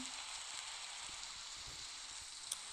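Faint, steady rain hiss in a video game, a soft continuous patter with no voices.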